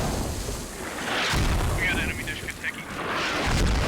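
A rocket explodes in the military shooter game Squad with a loud, sustained boom and rumble, followed by crackling debris and more distant blasts, while a voice talks over it.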